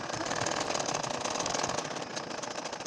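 A machine runs steadily for a few seconds, a continuous moderate whir and chatter that fits a sewing machine stitching a nakshi kantha design.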